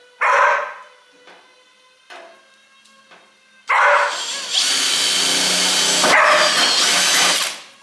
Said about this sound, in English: Let's drill it in, mate.